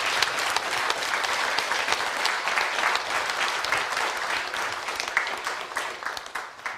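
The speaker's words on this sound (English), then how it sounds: "with a round of applause" An audience at a bilingual academic conference on mind, science and religion gives the presenters a long, dense round of applause that holds strong and then tapers slightly at the end.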